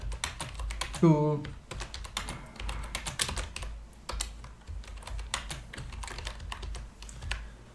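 Rapid, steady typing on a computer keyboard while entering tooltip text, close and fairly loud, with a brief spoken word partway through.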